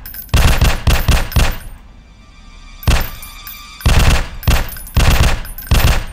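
Bursts of rapid gunfire from a zombie shooter video game set in an underground city, loud repeated volleys of shots separated by short pauses, with a quieter lull in the middle.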